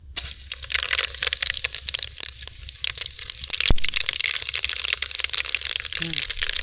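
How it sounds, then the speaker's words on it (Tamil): Mustard seeds crackle and pop in hot oil, a dense run of sharp irregular cracks close by, continuous across the whole stretch with a louder burst midway. "எண்ணெய் எல்லாம் சூடாயிடுச்சு கடுகு சேர்த்துக்கலாம்"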